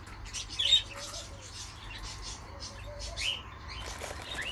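Budgerigar chicks begging for food, faint thin chirps and soft fluttering over a low background hum.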